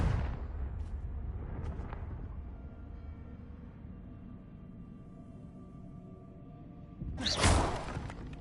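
A Confringo spell in Hogwarts Legacy bursts at the start with a booming blast that decays into a rumbling tail, then a second loud whooshing explosion erupts near the end.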